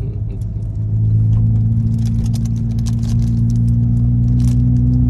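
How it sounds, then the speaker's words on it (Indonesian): A Honda Brio's engine hums steadily with a low rumble as the car rolls onto the Gelora Bung Tomo race circuit in Surabaya, heard from inside the cabin with faint rattles. "Akhirnya Brio-nya masuk sirkuit."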